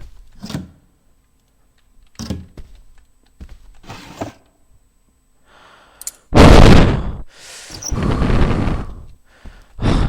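Sharp, loud bursts of video game gunfire erupt amid scattered thumps and breaths, with the heaviest volleys clustered in the second half.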